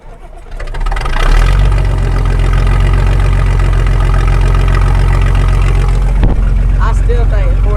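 A John Deere 4230 diesel tractor engine fires up and settles into a loud, steady, chugging idle close by, with a brief dip near the end.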